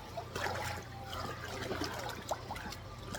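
Cold stream water trickles and flows close by in a steady, bubbling wash with small splashy accents.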